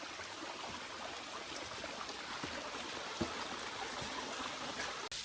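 Monsoon-swollen stream water flowing at Gadaikallu, a constant broad rushing wash with a few faint knocks and no voices.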